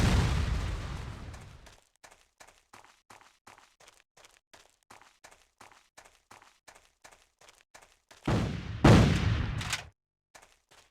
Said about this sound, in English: I'm just getting killed by freaking explosions